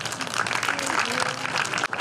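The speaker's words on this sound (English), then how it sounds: "Another round of applause for our seniors." A crowd at a girls' softball senior celebration applauds, with light scattered clapping heard under and between people talking nearby.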